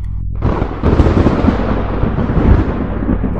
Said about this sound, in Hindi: अचानक बिजली कड़की।